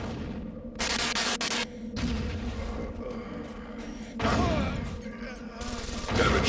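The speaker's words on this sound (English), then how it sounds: "this rocket launcher is terrible" Rocket launcher fire in Deus Ex: Invisible War, with loud bursts of blast and crashing noise in several waves over ongoing game ambience, the heaviest explosion arriving past the middle.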